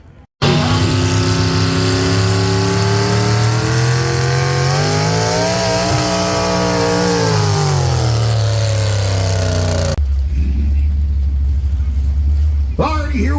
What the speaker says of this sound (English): The always creative tractor, 466 cubic inches.